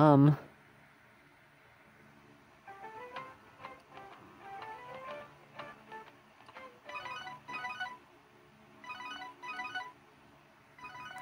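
A phone ringtone plays in the game Devil Survivor 2, repeating bursts of a bright electronic melody in a steady pattern after a short sound at the start, with no talk over it.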